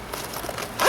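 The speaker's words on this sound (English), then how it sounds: "it just zips up" A small gear pouch holding silverware is zipped shut in one quick, close zip that grows louder toward the end.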